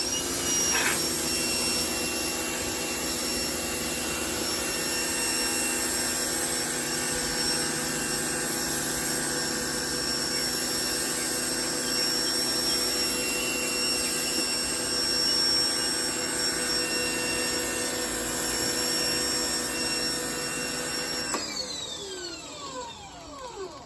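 A pressure washer sprayer for cleaning RVs, trucks and cars drones loudly and continuously with a steady motor whine, then winds down near the end.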